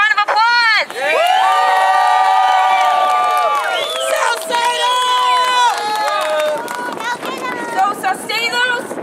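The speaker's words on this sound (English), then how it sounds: "So give yourselves a round of applause." A crowd of students, parents and teachers at a Chicago rally against standardized testing cheers and shouts loudly, with high whoops and screams over continuous clapping and babble.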